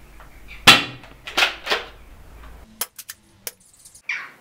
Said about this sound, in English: Finally, we shot a dart.